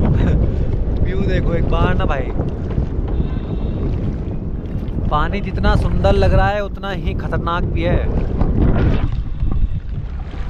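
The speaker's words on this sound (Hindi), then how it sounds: "अच्छा भाई बहुत तेज़ हवा चल रही है भाई, बहुत तेज़" Strong wind buffets the microphone while boating on Nainital lake, a constant loud roar of gusts and water noise under someone talking throughout.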